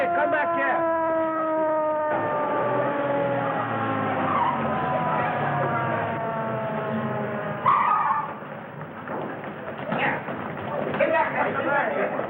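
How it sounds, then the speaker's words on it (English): A siren wails with rising and falling tones over steady traffic noise, growing louder as it nears, with voices talking underneath. "Ambulance coming."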